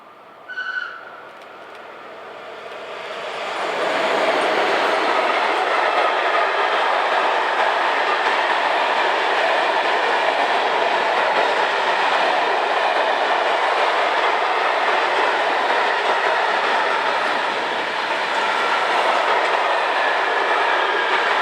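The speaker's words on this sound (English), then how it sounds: "From the other side of the platforms we see train 49658, conveying empty timber wagons from Varwalo to Basel." A freight train hauling empty timber wagons rumbles past a station platform, rising quickly from quiet to a loud, steady roar with rattling wheels that holds for nearly twenty seconds.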